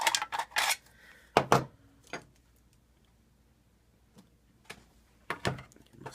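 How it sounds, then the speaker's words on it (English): Sharp metallic snips and crinkling as scissors cut a thin metal can, in short bursts separated by a quiet pause, close by. "you're going to have to use your scissors to cut the rest of the way"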